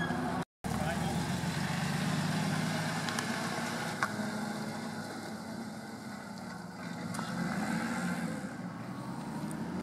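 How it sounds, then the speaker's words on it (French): Porsche Cayman sports car pulling away from the Magny-Cours circuit, a steady engine drone with a rising pass, heard from nearby over crowd and roadside ambience. "On commence tout d'abord par un joli Porsche Cayman."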